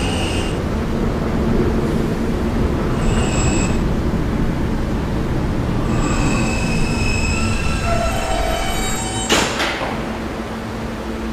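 A New York subway R train running at night, with a steady rumbling roll, several high metallic wheel squeals and a brief sharp burst near the end, heard up close inside the car.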